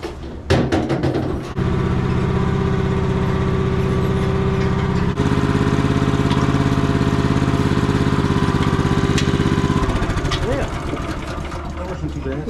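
A farm machine's engine starts and runs steadily at a working farm, a loud continuous mechanical drone with a sharp catch near the start and a brief change around the middle before it winds down toward the end.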